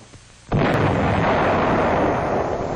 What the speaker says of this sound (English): second salvo, 200 yards short